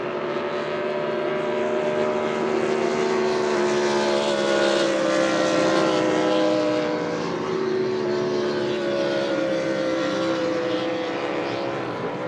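A 6-litre racing powerboat roars steadily and loudly past during practice at the E.C. Griffith Cup, a dense mechanical drone with shifting harmonics, with no voices.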